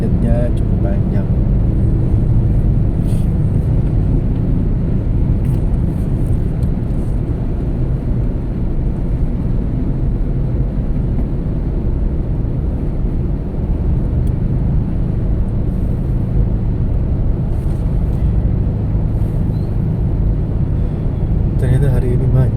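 Heavy traffic jam on the road leaving the Bekasi Timur toll, a constant loud rumble of engines and tyres continuing throughout, with occasional higher noises above it.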